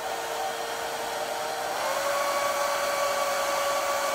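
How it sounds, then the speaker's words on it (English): A hair dryer blows continuously close by, a steady airy roar with a motor whine that shifts slightly higher partway through; no one speaks over it. "Here, let's put a hair dryer."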